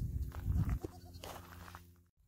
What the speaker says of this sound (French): Allez, près des chèvres